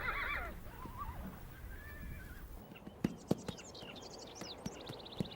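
Wild horses neigh and whinny loudly in the open, several shrill rising-and-falling calls, followed by sharp hoof clip-clops and scattered thuds while more whinnies trail off.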